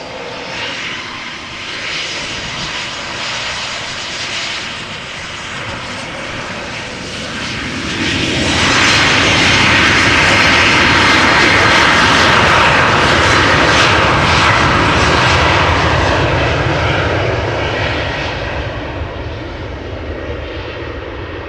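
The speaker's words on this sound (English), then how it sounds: "This is number 190 outbound to Gdansk in Poland, KLM flight 1917." A KLM Embraer 190 jet airliner outbound to Gdansk, Poland at Amsterdam Schiphol, its engines a steady loud roar that swells sharply around the middle and holds before slowly easing off, with no voices.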